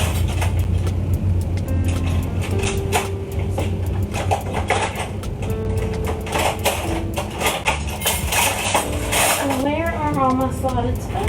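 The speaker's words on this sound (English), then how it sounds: "I'm going to get a big slotted spoon." Metal kitchen utensils clatter and clink in a home kitchen while someone rummages through them, with repeated close rattles under ongoing talk and a steady background hum.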